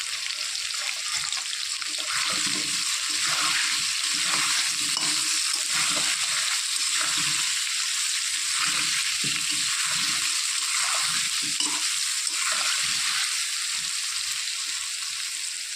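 Potatoes seasoned with salt and turmeric sizzle in a pan near the end of frying, a continuous close hiss with soft scraping and stirring clatter underneath.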